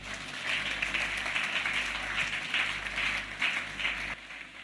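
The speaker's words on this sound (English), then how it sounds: "Clap for Jesus." A church congregation claps together in a steady, even wash of applause that keeps going, moderately loud and with no voices over it.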